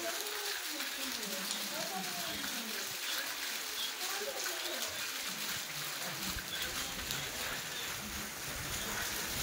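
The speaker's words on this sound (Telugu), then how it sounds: "వర్షం ఎలా పడుతుందో చూస్తున్నారు గైస్, అతి దారుణంగా పడుతుంది." Heavy summer rain pouring down in a dense, steady hiss that fills the whole stretch, with a voice talking faintly beneath it.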